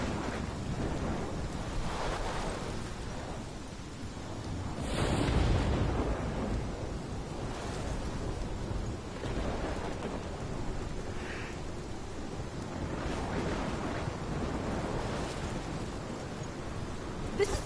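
Storm wind and crashing waves in the Life Is Strange video game roar as a steady low rumble, with a heavier surge near five seconds and gusts that rise and fade throughout, with no voices.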